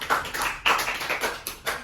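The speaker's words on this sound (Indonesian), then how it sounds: "tepuk tangan dulu buat kelompok flora" A short burst of classroom applause for a student group after their presentation: dense, uneven hand clapping from a small crowd, close and steady, with no talking.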